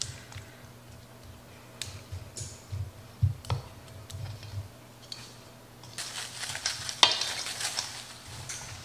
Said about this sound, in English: I will probably come through and stir this a couple times.